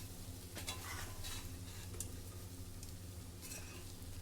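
Brinjal pieces fry in a pan with a steady, close sizzle while a spoon stirs them, adding soft scraping strokes throughout.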